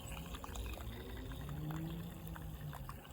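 Steady, soft bubbling and gurgling of water from a version 3 venturi bubbler in a hydroponics setup, running at 13 volts with too little air drawn in, continuous and close without talk.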